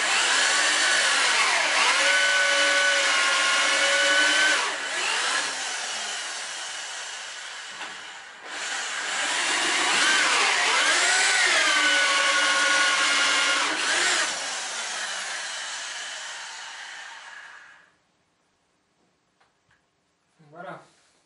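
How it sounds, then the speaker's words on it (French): A power drill with a sharp bit bores holes through the end grain of wooden pieces for a raised garden bed, two long whirring bursts that dip in pitch under load, then the drill winds down into near silence and a few faint clicks. "j'ai percé toutes mes pièces par bout"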